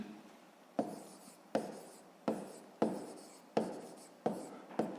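A pen scratches out a sixth-grade arithmetic solution by hand, in about seven quick bursts of strokes, each starting sharply and trailing off, close up and quiet, with no voices.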